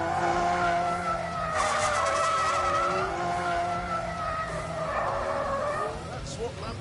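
A Lamborghini accelerating hard, its engine roaring steadily with a loud, sustained tire squeal layered over it throughout.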